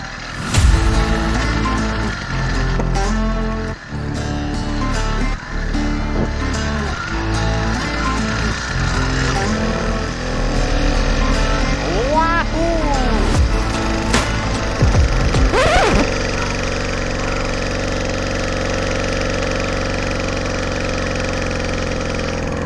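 A homemade gas-powered bicycle engine idles with a steady, buzzing mechanical chatter, loud and close, broken by a few revving swells and clanks partway through.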